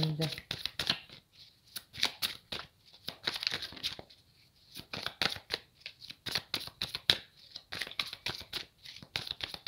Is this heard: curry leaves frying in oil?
no